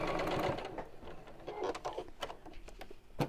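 A sewing machine runs steadily as it stitches down the edge of fabric, with a continuous close whirring motor and needle chatter that pauses briefly and restarts.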